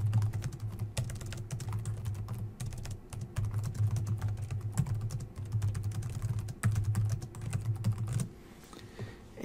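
Steady typing on a computer keyboard while entering course content into the Moodle platform, with rapid close key clicks in bursts and brief pauses.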